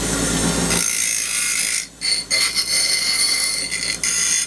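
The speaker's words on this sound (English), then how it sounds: "before I drill the holes, I want to deburr this" A high-pitched power tool deburrs metal steadily up close, briefly cutting out and restarting with uneven rasping bursts.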